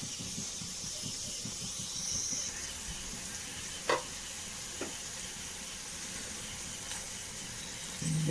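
Coconut oil heating in a pan on the stove, giving a steady close sizzle and hiss throughout, broken by a few faint clinks and stirring sounds.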